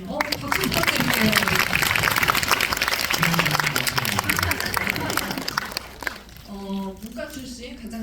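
An audience at a film screening Q&A for The Moon claps densely and steadily for an actor. Voices carry over the applause, which thins out toward the end as a few tonal sounds come in.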